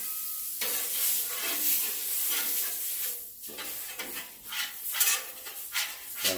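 Smash burgers hit a griddle greased with melted margarine and sizzle loudly in a bright, hissing wash, broken by metallic scrapes and clatters of a spatula.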